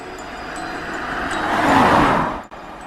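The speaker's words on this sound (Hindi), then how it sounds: "बुल्ली ने अपनी गाड़ी तुरंत शॉन के पीछे लगा दी।" A cartoon car drives and turns, a steady broadband engine-and-road rush that swells louder toward the end, then cuts off briefly before resuming.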